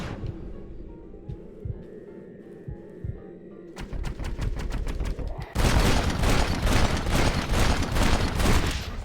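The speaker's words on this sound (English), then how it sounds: "I'm going to shoot him 17 times." Gunshots ring out in the Western game Red Dead Redemption, starting as scattered single cracks and building into a dense, rapid barrage of close, loud shots.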